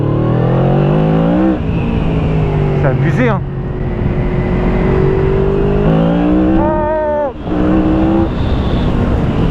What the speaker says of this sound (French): Et le moteur arrive quand même à faire burner la roue